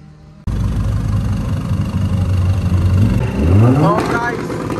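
A drag racing car engine at a Motul Drag Master Cup event, loud and close, idling roughly with crackling pops before revving upward in rising sweeps near the end, under busy crowd and commentary chatter.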